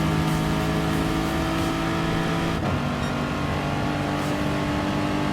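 A Super GT 2008 race car in Gran Turismo Sport accelerates with a loud, continuous engine drone that holds steady and close. No other sounds break through the roar.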